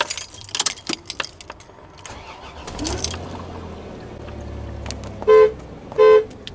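Car keys jangling as they go into a car's ignition, a brief metallic rattle early on, followed by a low engine hum and two short, loud horn toots near the end.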